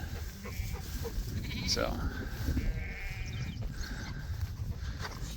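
Sheep and newborn lambs bleat on a small farm, several calls rising over one another at moderate distance while a person speaks briefly nearby.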